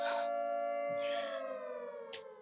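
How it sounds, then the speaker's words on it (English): A wailing siren tone holds steady and slowly fades, with a few higher bursts and a brief low rumble over it; no one speaks. "Sirens, can you hear that?"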